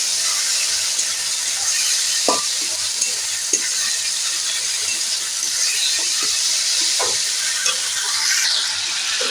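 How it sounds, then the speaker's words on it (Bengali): Snails frying with onion, ginger, cumin and chili powder in a pan, a loud continuous sizzle and hiss with occasional sharp stirring clicks and scrapes, close up. "শামুক পেঁয়াজ মশলা একসাথে ভেজে নেব"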